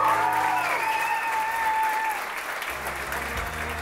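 Wedding guests applaud the newlyweds after their first dance at a golf venue in Saint-Raphaël, a dense, steady wave of clapping from a sizable crowd, with music fading underneath and a few voices faintly mixed in.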